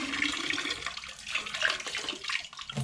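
A gallon of water pours steadily into a container for a bonsai bacteria brew, a close, continuous splashing gurgle that rises and falls over a few seconds, with no voices.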